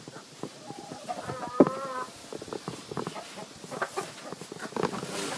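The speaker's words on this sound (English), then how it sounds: "So I can put about 150 laying hens in here." Laying hens cluck and murmur close by inside a hen house in scattered bursts, with a few sharper squawks and soft scratching patter between them.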